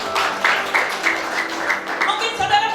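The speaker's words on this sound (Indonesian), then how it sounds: "Berikan tepuk tangan yuk bagi Tuhan." Congregation clapping during a Sunday church service, a broad continuous wash of applause from many hands with a voice rising over it toward the end.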